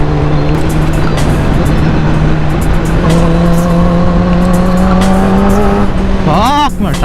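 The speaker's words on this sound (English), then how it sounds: "my tire's slipping." Loud Kawasaki Ninja ZX10R sport motorcycle engine droning steadily on the road, with a rising rev and a brief tire scrabble near the end, heard up close throughout.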